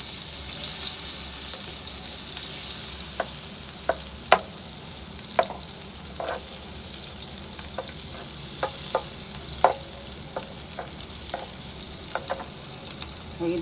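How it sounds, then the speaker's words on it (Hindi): Butter with a little oil sizzles steadily in a pan for a chicken vegetable samosa recipe, a soft continuous frying hiss broken by scattered sharp spatter pops and occasional stirring clinks, close and alone without talk. "एक पैन ले लिया, इसमें हमने मक्खन डाल दिया और थोड़ा सा ऑयल भी डाला था।"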